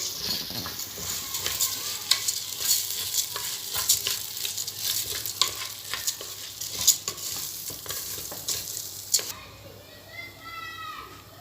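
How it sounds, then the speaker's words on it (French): A spoon scrapes and stirs a sizzling pot of Senegalese mafé with one to two tablespoons of tomato paste, making rhythmic clinks over a frying hiss while someone talks, before the sound fades near the end. "Alors, je mélange le tout."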